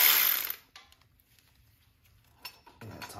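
A ratchet loosens a bracket bolt on a car in a quick burst of close, metallic clicking, followed by a few scattered softer taps.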